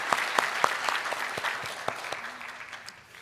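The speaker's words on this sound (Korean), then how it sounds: "네, 박수로 환영하겠습니다." Applause from a church congregation welcoming retired guests at a Sunday worship service, a steady wash of many hands clapping with sharper individual claps standing out, fading slightly toward the end.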